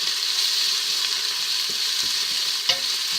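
Garlic frying in a pan, a steady close hiss and sizzle with faint stirring clicks and one small clatter near the end.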